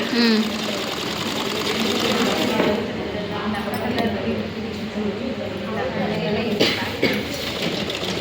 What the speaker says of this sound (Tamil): 1/2 இன்ச்சை மட்டும் மடக்கி நான் தையல் அடிக்கிறேன்.